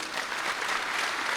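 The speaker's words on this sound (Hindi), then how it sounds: "जोरदार ताली बजा दो भाई।" Steady, dense applause from a large audience at a Hindi yoga and health gathering, continuous and fairly loud throughout without pause.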